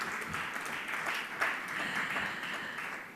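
Audience at an awards ceremony applauding, a sustained crowd of claps with sharp individual hits standing out, moderately loud and steady throughout.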